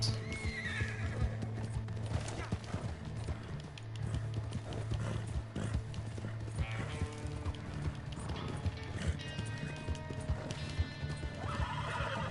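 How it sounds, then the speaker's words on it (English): Horse hooves clip-clop at a steady gallop in Red Dead Redemption 2, with several loud neighs and whinnies over a busy game soundscape of background music and effects, fairly close and continuous. "Go, horse!"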